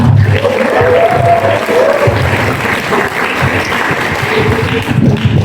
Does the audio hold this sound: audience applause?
yes